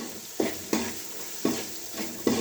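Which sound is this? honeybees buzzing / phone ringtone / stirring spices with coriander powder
stirring spices with coriander powder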